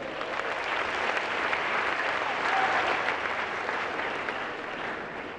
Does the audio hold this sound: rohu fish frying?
no